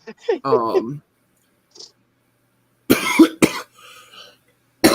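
A few sharp, abrupt bursts like coughs, preceded by a short vocal sound and separated by quiet gaps, fairly close and loud.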